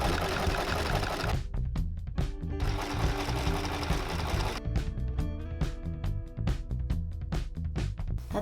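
Sewing machine stitching pieces of homemade trousers together, running in steady bursts with brief pauses and a rapid mechanical rattle throughout, close and fairly loud.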